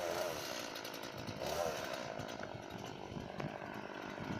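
A gasoline chainsaw cuts into a rubber tire, its engine a loud, steady high-pitched whine that holds continuously with slight load dips as the chain bites, close by and dominant throughout.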